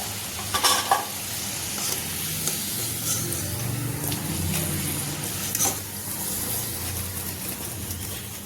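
French fries frying in hot oil, a continuous close sizzle with occasional stirring clatters and brief louder bursts, no voices.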